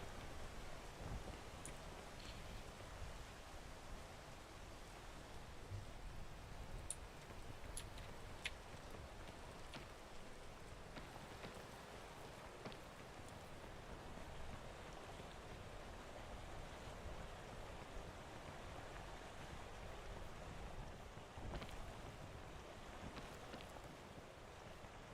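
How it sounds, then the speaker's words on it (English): Rain falls steadily in a video game as a soft, continuous hiss that stays faint and even throughout, with no talking. "And it's raining."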